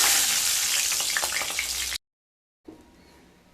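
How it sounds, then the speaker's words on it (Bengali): Eggplant and tomato pieces fry in hot oil in a pan for begun bharta, making a loud, dense, continuous sizzle for about two seconds. The sound then cuts to silence, and a faint quieter background follows. "দুটো সাইড খুব ভালোভাবে ভাজা হয়ে গেছে সমস্ত উপকরণগুলো"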